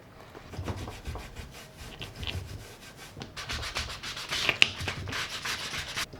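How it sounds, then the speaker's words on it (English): Sandpaper rubbed over leather in steady back-and-forth strokes, a close, dry scratching that comes in bursts and grows busier toward the end, with no talking. "with a little sandpaper, sand some of this perfectly beautiful leather so it doesn't look so perfect and beautiful"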